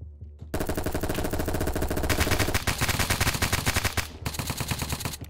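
Gunfire from the video game Apocalypse Rising 2 bursts into sustained rapid automatic fire, loud and close, continuing with a brief pause before another volley.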